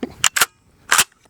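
A KelTec KSG-12 pump shotgun firing short shells outdoors: three sharp, loud shots, two in quick succession and a third just after, each with a brief crack and decay.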